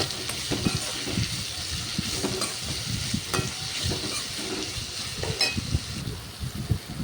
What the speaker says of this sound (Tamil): ஆட் பண்ணி நல்லா மிக்ஸ் பண்ணி விட்டுருங்க.